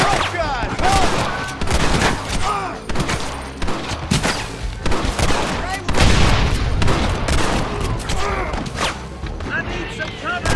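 Gunfire in the Red Dead Redemption video game cracks out in heavy, irregular volleys of close shots and booms, with voices shouting over the battle throughout.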